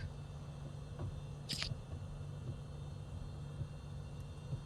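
Beechcraft Bonanza engine heard from outside the plane in Microsoft Flight Simulator, a faint low steady drone and hum with a brief higher click partway through, distant and without talk.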